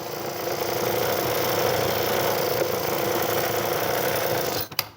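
A sewing machine stitches a shirt shoulder seam, a fast steady mechanical whir running evenly up close for several seconds before stopping with a couple of clicks.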